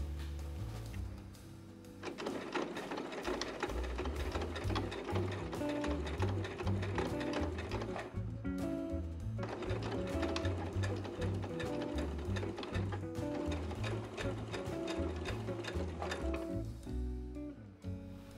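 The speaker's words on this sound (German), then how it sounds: "dann konnte ich diese Naht nähen" A sewing machine stitching a seam on a cat-shaped baby comforter runs in two long steady bursts, a fast, close mechanical whir with a short pause between them and no talking.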